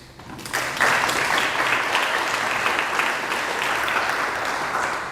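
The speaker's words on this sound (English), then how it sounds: "I'm going to give them a round of applause." Audience at a founders' showcase event bursts into applause for a panelist, the clapping swelling within a second and staying full and even to the end.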